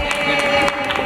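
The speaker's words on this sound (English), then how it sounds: "I'm getting applause before I finished" Brief burst of audience applause with some crowd noise during a health leadership summit speech, a short, fairly loud patter of clapping.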